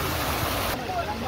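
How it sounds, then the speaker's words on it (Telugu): Rushing water from a garden waterfall in NTR Garden, a steady broadband roar that fills the short moment, with a voice speaking over it. "చూడండి వాటర్ ఫాల్"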